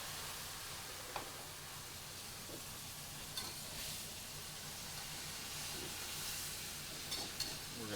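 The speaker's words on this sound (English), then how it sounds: "So we're gonna add some white wine into that." White wine goes into a pan of sizzling onions and is stirred, giving a faint, steady hiss and sizzle with a few soft clicks of a utensil against the pan.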